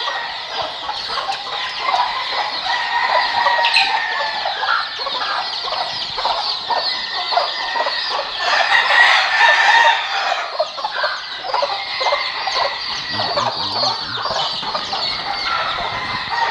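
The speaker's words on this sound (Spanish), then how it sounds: "aquí se crían estos pollitos" Chickens and chicks cluck steadily in a busy flock on a farm, with overlapping calls and an occasional rooster crow rising above the chatter.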